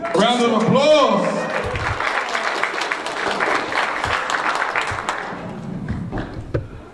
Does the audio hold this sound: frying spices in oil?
no